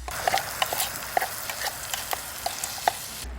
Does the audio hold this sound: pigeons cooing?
no